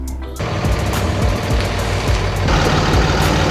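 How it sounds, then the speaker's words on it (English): A 5-speed turbo diesel truck drives in a close, loud cabin, its engine rumble steady with rhythmic low thumps and a brief shift in tone partway through. "5-speed turbo diesel truck."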